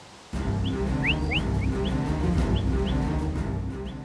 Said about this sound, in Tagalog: Sa kalayuan, may palaka ang sumisipol.